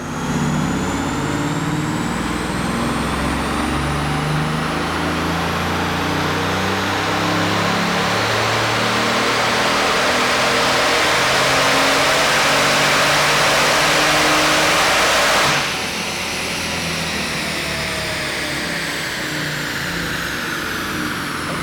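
Bugatti engine on a dynamometer, held in a long full-throttle pull: a loud, sustained roar climbing steadily in pitch for about fifteen seconds, then abruptly dropping off into a lower, settling drone.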